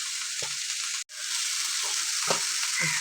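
Red-stem amaranth greens sautéing in an open pan, a continuous bright sizzle with a few stirring scrapes and one brief break, no talking.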